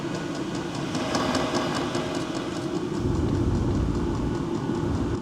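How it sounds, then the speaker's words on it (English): A workshop diesel heater blows warm air from its outlet into a close microphone, giving a steady, dense rushing noise with a low rumble underneath and no talk. "And now for the air noise from the warm air outlet."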